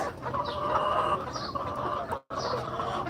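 A flock of large tiger chickens, heavy birds of three to four kilograms, clucks steadily at a poultry farm in a dense, continuous chorus of overlapping calls at close range, with a brief drop-out near the end.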